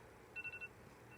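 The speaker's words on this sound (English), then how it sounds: "that's my timer." A kitchen timer emits a quick run of four faint, high-pitched beeps, distant and soft over a low background hum.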